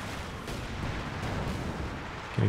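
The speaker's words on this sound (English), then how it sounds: "A bit of mortar cover coming in." Mortar fire in the game Company of Heroes 2 rumbles as a dense, continuous barrage of low booms and crackling impacts, steady in level, with a sharper hit right at the end.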